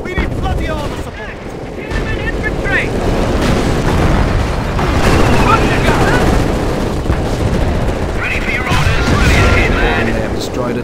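Machine guns chatter amid booming explosions in the World War II strategy game Company of Heroes, set in the battle for Caen in 1944, a dense continuous roar of combat with soldiers shouting over it.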